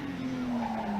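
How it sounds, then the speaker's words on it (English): A Toyota Supra rally car on a stage of the 1985 Circuit of Ireland Rally, a brief, steady engine note with a rising tone, close and loud, no talk. "Per Eklund in the new Toyota Supra"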